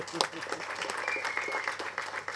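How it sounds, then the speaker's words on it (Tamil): An audience at a Tamil film audio launch event claps for a man releasing a film, a scattered patter of applause mixed with overlapping voices. "அதுக்கே தனியாக நீங்கள் அவருக்கு ஒரு கைத்தட்டல் கொடுக்கலாம்."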